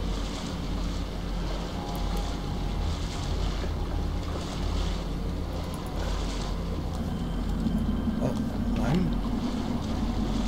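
Swimming through water in the horror game The Evil Within: a steady wash of sloshing water and low rumble runs the whole time, with a few brief splashy swirls near the end.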